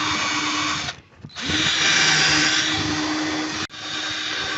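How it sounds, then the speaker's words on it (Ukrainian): A power saw cuts through an OSB board to make a door opening, a loud continuous whine that stops briefly, then restarts and keeps cutting, with a sharp momentary dip near the end. "Тепер пила пролізе і пиляємо"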